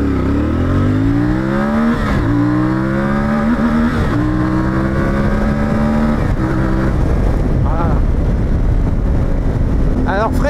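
A CF Moto 450MT motorcycle engine revs hard and climbs through several gears during a 0 to 100 km/h run, loud and close with rising pitch sweeps and brief dips at each shift.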